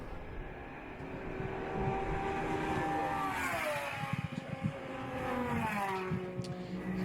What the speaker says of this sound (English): the headlight blazing on the Audi as it goes through the difficult hairpin